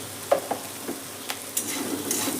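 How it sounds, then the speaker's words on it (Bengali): Ginger frying lightly in a pan gives a soft, low sizzle, with a few quiet knocks and stirring scrapes scattered through it and a slightly fuller hiss toward the end. "আদা দিয়ে হালকা আমি ভেজে নিচ্ছি, যাতে আদার কাঁচা গন্ধটা চলে যায় তাড়াতাড়ি"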